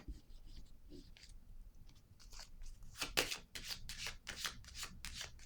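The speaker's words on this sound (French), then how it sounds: "Je vais déposer une autre carte." A playing card is laid down amid quiet card handling, brief soft slaps and rustles, with a sharper snap near the middle and more shuffling after, close and fairly faint.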